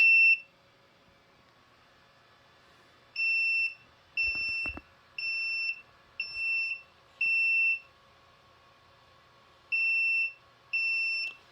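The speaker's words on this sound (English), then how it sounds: "Audible alarm and flashing lights." The low-primer alarm on an X10 reloading press sounds as a series of sharp, high electronic beeps in short bursts, about eight of them in an uneven rhythm, close and clear over a quiet background.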